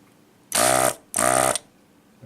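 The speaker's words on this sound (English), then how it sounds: "this is the Hakko FR300 desolderer gun" A Hakko FR300 desoldering gun's vacuum pump runs in two short bursts, each loud, buzzing and about half a second long, separated by a brief pause, with a third burst starting at the end.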